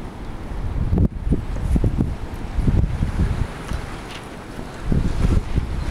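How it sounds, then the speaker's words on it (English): Gusty wind blows steadily outdoors on a windy day during kite flying, with loud, rumbling wind buffeting the microphone continuously and surging in stronger gusts. "Which way is the wind going?"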